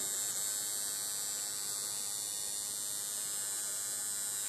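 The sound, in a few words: Bigwasp cartridge pen rotary tattoo machine running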